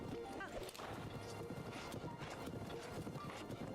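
Horse hooves clip-clop in a video game, a steady run of close hoofbeats mixed with a whinny and game noise, heard over continuous talk.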